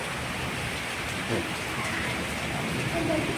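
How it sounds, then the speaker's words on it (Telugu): Steady heavy rain pours down in Hyderabad, a dense continuous hiss with a few louder splashes, no voices. "ఇక్కడ చీకటి ఉంది ఫుల్ పడుతుంది వర్షం"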